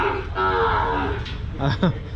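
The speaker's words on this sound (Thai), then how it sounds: "วัวตัวเมียนะครับ5ตัวท้องครับ" Cattle at a livestock market in Tak province, Thailand, give a long, loud, close moo, followed by a couple of shorter calls amid background crowd noise.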